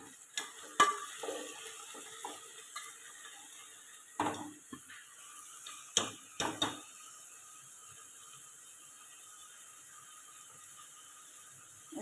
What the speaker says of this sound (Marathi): आणि हे वाटाणे। आता हे छान परतवून घेऊ।